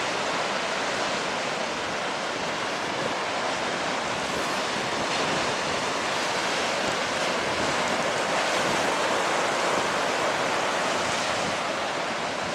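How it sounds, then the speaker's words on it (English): Waves crashing and surging on stormy Hendon Beach near the port of Sunderland, a loud unbroken roar of surf with heavy wind buffeting the microphone, no voices. "So if there's any big waves come down here."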